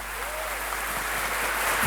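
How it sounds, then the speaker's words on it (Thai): An audience claps to welcome guest Beer Saranyu onto the stage at a BigSeller stand-up comedy event, a steady, even burst of applause that stays level through the short stretch. "ขอเสียงปรบมือต้อนรับครับ"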